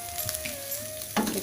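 Tempeh martabak frying in a pan, a steady, close sizzle with a faint thin whine running underneath, ending in a sudden clatter of a utensil against the pan.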